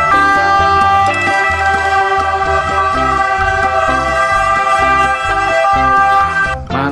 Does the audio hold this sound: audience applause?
no